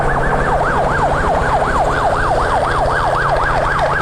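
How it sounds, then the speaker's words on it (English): A helicopter's loud wailing alarm siren sweeps steadily up and down in rapid, even cycles, continuous throughout, over the low drone of the helicopter, as painted wild dogs are driven into a boma. "the hooter, the alarm siren going off on the chopper."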